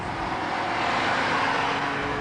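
A Vauxhall Omega 2.5 V6 engine running while the car is driven, a steady, full engine drone with road and wind noise and a fussy tappety character, held at a constant level throughout.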